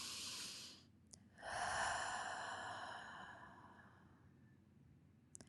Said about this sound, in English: take a breath with me